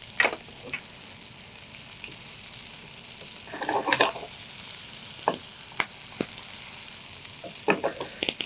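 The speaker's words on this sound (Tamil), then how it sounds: "மலைச்சாரல் கொத்த அப்படியே நீங்கள் பேனில் போடுங்க இது ஃப்ளேவர் அப்படியே நல்லா ஏறும்" Curry leaves fry in hot oil in a pan, giving a steady soft sizzle with scattered crackles and pops and one louder spattering burst, no talking.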